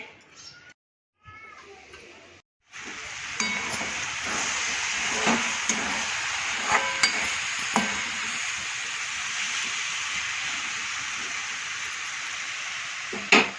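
Cabbage and potatoes with salt fry in a pan, giving a steady hissing sizzle that runs unbroken for several seconds, with faint clinks and stirring sounds on top after a brief quiet start.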